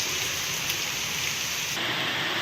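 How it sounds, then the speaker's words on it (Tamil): Heavy rain pours down in Thoothukudi as a dense, unbroken hiss of falling water that stays loud and steady throughout. "தொடர்ந்து கனமழை பொழிந்ததால் சாலையில் தண்ணீர் பெருக்கெடுத்து ஓடியது."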